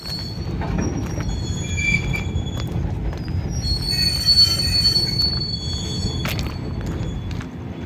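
A freight train carrying rails rolls in near Beed, its wheels squealing in sustained high metallic tones over a constant low rumble, close and loud, with no speech.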